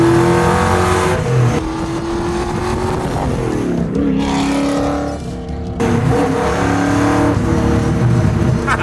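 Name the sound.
Roadster Shop Camaro 750 hp naturally aspirated engine revving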